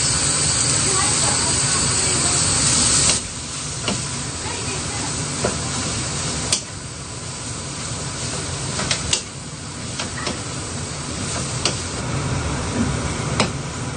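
Meat frying in a pan while making lumpiang shanghai with vegetables: a steady loud hiss that eases after a few seconds and carries on with soft crackles and scattered pops.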